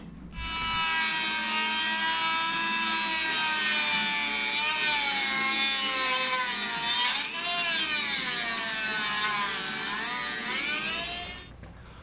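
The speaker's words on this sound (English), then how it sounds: "I'll use the Dremel and the drill to cut out all these holes." A continuous high-pitched whine of a Dremel rotary tool and drill cutting holes in a CNC machine faceplate, its pitch wavering as it cuts, running steadily for several seconds before stopping.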